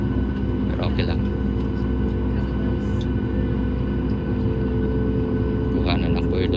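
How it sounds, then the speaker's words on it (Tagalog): Alaska Airlines jet rolling down the runway from a window seat over the wing, a loud steady engine roar and deep cabin rumble holding throughout, with brief faint higher hisses near the start and end. "Kuhanan ng buwelo yung aeroplano."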